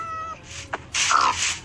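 Minecraft cat meowing in the game, a couple of short close meows, the second louder and drawn out, with no talk.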